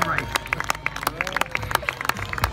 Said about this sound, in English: Please give them a huge clap and a cheer as they make their way